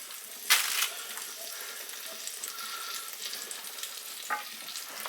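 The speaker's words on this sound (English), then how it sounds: "I'm going to add a little bit of oil to the pan, about a tablespoon. And a little pat of butter." Oil and a pat of butter sizzle in a hot pan as steak is pan-seared, a close, steady frying hiss with a sharp burst near the start and a smaller flare-up toward the end, no voices.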